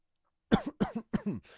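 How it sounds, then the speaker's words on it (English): A deep, chesty cough repeated three times in quick succession, fairly close, then fading into a short breath. "you hear a deep cough away from the other end of the phone"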